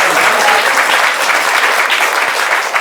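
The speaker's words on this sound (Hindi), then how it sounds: "सब ताली बजा के इनका स्वागत करें।" An audience at a devotional drama performance bursts into loud, sustained applause welcoming the performers, dense clapping from many hands filling the space.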